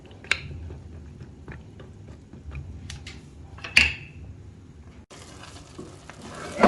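Kuska plain biryani rice being stirred from the bottom of a cooking pot, a steady scraping and shuffling with soft sizzling and a sharp clank of the spoon against the metal midway.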